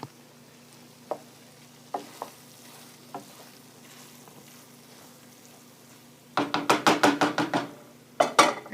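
Italian sausage stir fry in a pan, a quiet stretch with a few isolated taps and knocks, then a loud run of rapid scraping, clattering stirring strokes near the end.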